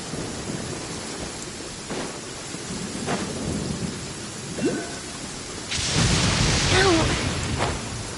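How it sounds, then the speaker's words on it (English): Heavy rain pours steadily in a Genshin Impact thunderstorm while thunder rumbles several times, building to a loud roaring crash near the end; no one speaks. "Rainy days are perfect for spacing out."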